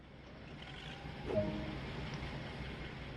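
On a BR class 47 in Train Sim World 2, the second diesel engine cranks over the hum of the one already running, a short rising burst that settles back into a low, steady idle drone.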